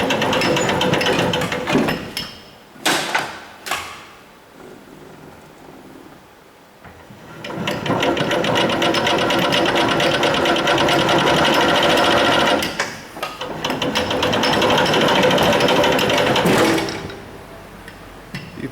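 A hand-cranked World War II style toy machine gun fires in long continuous rattling bursts, loud and close, with brief pauses between runs.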